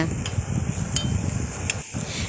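Onion and tomato paste sauté in cooking oil in a pan for paneer masala gravy, giving a soft, steady sizzle with a couple of faint spatula scrapes.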